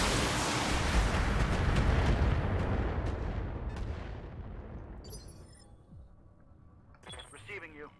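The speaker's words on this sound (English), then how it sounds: "Firing all weapons." A Trebuchet mech in BattleTech fires all its weapons, including SRMs, in a loud opening roar of booming blasts that gradually fades. Sharp crackling pops and whooshes follow near the end.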